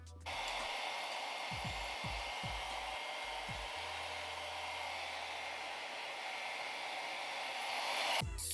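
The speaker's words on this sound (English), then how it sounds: "I'm going to blow dry it on cold air" A hair dryer on its cold setting blows steadily over a glued protective cap for a quick weave, a loud, even whoosh that runs alone for several seconds before cutting off near the end, with a few soft bumps early on.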